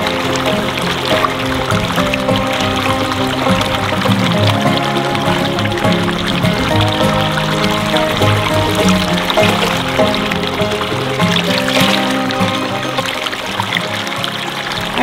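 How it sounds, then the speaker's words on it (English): Laundry is rinsed under running water, giving a loud, steady splashing and trickling that continues throughout, with no talking. "Rinse them out really good. Gets all the last of the detergent out."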